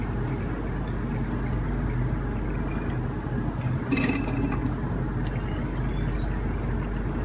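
Distilled water pours steadily into a container, a continuous filling wash with a brief brighter splash partway through, moderately loud and close with no speech.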